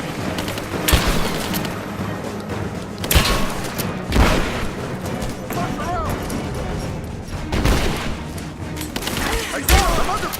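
Gunfire in the Rise of the Tomb Raider video game, with bursts of shots and heavy booming impacts recurring throughout, loud and close, mixed with shouted character dialogue.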